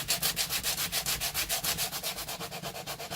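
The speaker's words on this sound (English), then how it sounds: "Touch of sandpaper," Sandpaper rubbed back and forth over the edges of soft vise-grip jaws, steady rhythmic strokes about six per second, close and fairly quiet with no talk.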